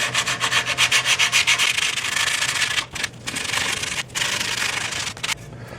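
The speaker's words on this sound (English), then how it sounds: "I'm going to go over this with sandpaper, just so it's nice and smooth. Medium grit sandpaper." Medium-grit sandpaper rubs rhythmically along the cut edges of a Dell XPS case top panel. The strokes are close and steady at first, then turn into a longer continuous scrape with brief breaks.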